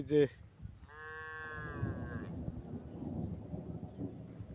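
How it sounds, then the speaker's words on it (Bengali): A single drawn-out moo from local desi cattle grazing in a wide open field, preceded by a short sharp call and followed by steady low outdoor rumble and wind. "এই যে দেখেন চতুর্দিকে শুধু দেশি গরু"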